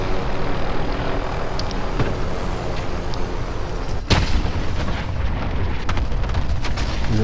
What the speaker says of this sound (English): They call it an airstrike on there.